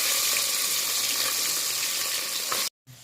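Turmeric and spice mixture hitting hot oil in a pan while cooking mutton, a loud, dense sizzle and crackle that holds steady before cutting off abruptly near the end.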